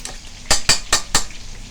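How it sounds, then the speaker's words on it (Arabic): Eggs beaten hard with salt and chili make four sharp, rhythmic whisking clacks of a utensil against a bowl, loud and close, with quiet pauses in between and no talking. "نربه جامد قوي البيض كده في الايه، بالملح والشطه."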